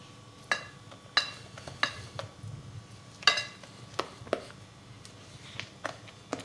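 Onion fritter batter is stirred gently in a bowl, a spoon tapping and scraping in about a dozen sharp clinks at an uneven pace, close and clear without talk.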